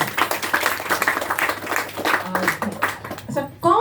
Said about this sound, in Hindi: अच्छा चलो उनको हम जोरदार तालियां देते हैं।